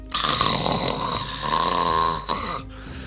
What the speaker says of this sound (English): you hear snoring